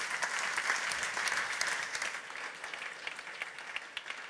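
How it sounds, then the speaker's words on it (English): A conference audience at Front Conference Zurich 2016 breaks into sustained, dense applause that stays steady throughout, with a slight thinning toward the end. "So please give a very warm applause to the person who came to Amsterdam to draw a crab onto my car, Heydon Pickering."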